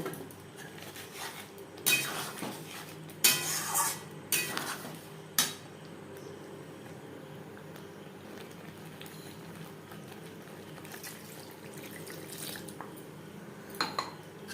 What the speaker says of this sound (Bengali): আরও চার পাঁচ মিনিট রান্না করে নেওয়ার পর দিয়ে দেব ভেজে রাখা আলু